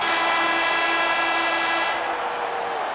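A loud, sustained ice hockey arena horn ending a period blares steadily for about two seconds, then a slightly lower tone carries on before fading, with no voices over it.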